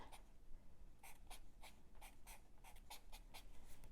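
Pen scratching across a paper journal page in short bursts of handwritten strokes, close and fairly quiet over a low background hum, with no talking.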